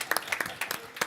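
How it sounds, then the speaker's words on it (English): Brief scattered clapping from a small indoor audience at a talk, a handful of separate claps rather than a full ovation, moderately quiet. "Let's get you a round of applause."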